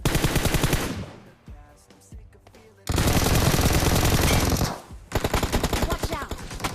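Automatic weapon fire in the mobile shooter BGMI, two long loud bursts of rapid shots separated by a short lull and followed by a third burst, close and harsh.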